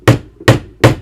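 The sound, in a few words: striking a setting tool to fasten a leather stud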